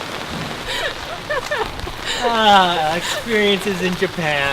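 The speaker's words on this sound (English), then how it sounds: "It's raining pretty hard right now." Heavy rain pours down on a street in Japan, a steady hiss running beneath close, continuous talking.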